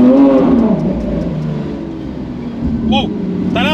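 Lamborghini Aventador SVJ roadster with a full exhaust pulling hard, a loud, close engine howl that climbs then eases into a steady drone, with someone talking over it.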